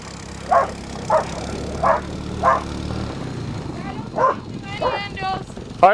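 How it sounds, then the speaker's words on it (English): A farm dog barks in short single woofs at a steady pace, then a quicker run of yips near the end, over engine rumble and children talking. "Make sure the dog doesn't bite you."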